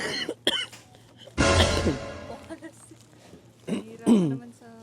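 A person with a cough and cold coughs in a harsh burst near the microphone, with a few smaller coughs and throat sounds around it, mixed with brief speech.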